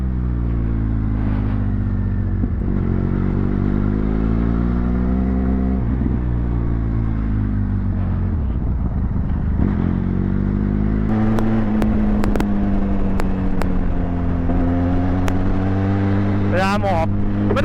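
A Benelli TRK 502X inline-twin motorcycle is ridden steadily, its engine droning close with rising and falling revs and gear changes, under near-continuous rider talk and wind noise.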